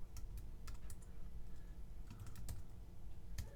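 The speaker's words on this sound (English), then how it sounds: "as you're typing in things in the terminal" Soft, irregular keystrokes clatter on a computer keyboard, quick taps in uneven bursts, close and fairly quiet, with no talking.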